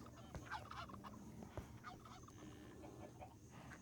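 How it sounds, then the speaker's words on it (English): A turkey gobbles in a game, a short rattling call rising over a low ambient hum, followed by a few softer clucks. "Turkeys."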